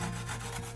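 Burdock root rubbed against a grater in a kitchen, a steady rasping scrape that runs continuously and close up with no talking.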